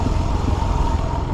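A dirt bike engine brakes in first gear on a steep, rough mountain pass descent in Colorado, a loud, close, steady droning rumble with slight pulsing and trail clatter.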